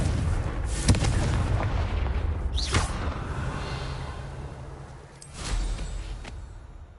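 Blasting spell explosions from the Hogwarts Legacy video game, a loud booming burst near the start and another around the middle, with a rushing swell near the end over a constant rumbling background.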